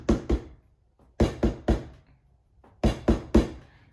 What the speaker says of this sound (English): He knocked 9 times in with pause in between.